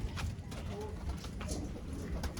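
Pigeons being given medicine in their water coo softly amid scattered wing flutters and scuffling, while people talk quietly nearby.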